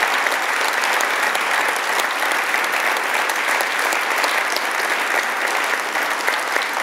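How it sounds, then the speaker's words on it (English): Event audience breaks into sustained applause, a loud, even roar of many hands clapping that carries on for about seven seconds without speech. "Let's give him a round of applause for the wonderful work that he's done."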